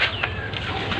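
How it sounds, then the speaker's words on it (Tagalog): A pigeon flaps its wings as it comes down near its loft, a close, brief flurry of soft wingbeats over a low background rumble. "Ito po yung kalapati dito oh."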